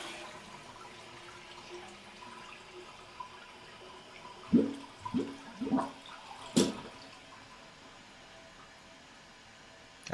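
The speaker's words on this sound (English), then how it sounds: "you're going to want to flush it a couple times" Toilet flushing after its flapper is replaced with a Vormax flapper: a few short bursts of rushing water come close together midway, then one sharper surge, over a steady low background of running water.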